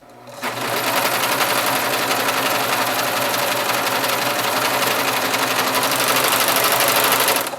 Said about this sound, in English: I just used my serger